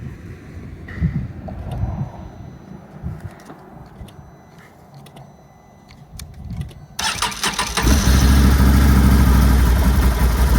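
A Can-Am Renegade 1000 XXC ATV is started. Clicks and a brief cranking lead to the engine catching, and it settles into a loud, steady, rumbling idle close by.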